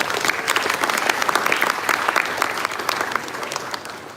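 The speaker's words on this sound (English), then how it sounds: "Can we please have a round of applause for them?" An audience applauds at a management society event, steady dense clapping filling the hall for several seconds, fairly loud and close, with no speech over it.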